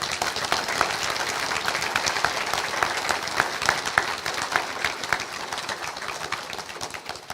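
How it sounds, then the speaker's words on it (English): A crowd applauds steadily after being invited to give a round of applause, a dense, even wash of many hands clapping that continues without pause for several seconds and stays near and fairly loud. "I would like it if you could give a nice round of applause"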